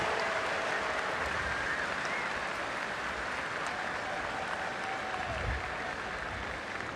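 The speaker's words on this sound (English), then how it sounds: "they'll give Hudson an applause" Football fans in a stadium applaud a player at a Baylor versus Texas game, a broad distant roar of clapping and crowd noise that holds steady and fairly soft throughout.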